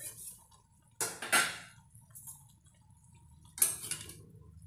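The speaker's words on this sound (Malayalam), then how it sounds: "കറി ഒന്ന് ഇളക്കിയിടാം" Curry is stirred in a pot, heard as a few separate scraping, clattering strokes of a spoon against the metal with quiet gaps between them and no speech.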